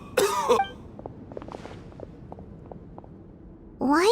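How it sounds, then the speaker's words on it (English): A male character in Genshin Impact gives a burst of harsh coughs near the start, then quiet faint ticks and small in-game sounds, and a second cough bursts out at the very end. "Why is he coughing so much?"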